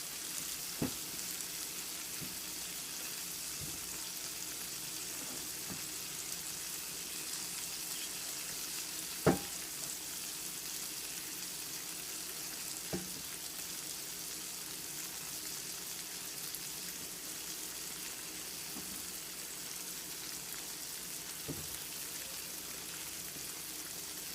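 A pork chop fries in a pan with a continuous soft sizzle and crackle, broken by scattered sharp pops and one louder spatter, steady and close throughout with no voices.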